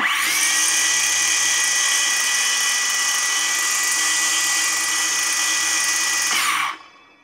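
A YUANSEN cordless circular saw runs freely without cutting. It gives a loud, steady high-pitched motor whine for about six seconds, then winds down quickly once switched off.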